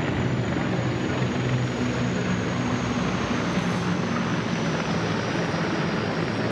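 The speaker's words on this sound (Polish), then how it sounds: "No i teraz mamy śmigłowce Mi-24 z 1. Brygady Lotnictwa Wojsk Lądowych." Mi-24 attack helicopters of an army aviation brigade fly over an Armed Forces Day military parade in Poland, producing a loud, steady roar of rotors and turbine engines that fills the whole span without a break.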